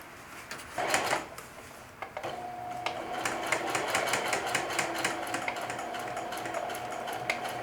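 A sewing machine stitches a back pocket seam, a steady fast mechanical whir and needle chatter running close after a few clunks of the presser foot and handling.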